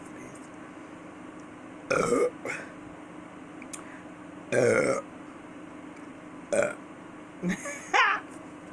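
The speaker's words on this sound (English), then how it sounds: "Y'all get some good burps off" Several loud, close burps after a meal of chili cheese Polish sausage with onions, bell pepper, garlic and butter, coming in short bursts spaced a couple of seconds apart, with a brief spoken word between them.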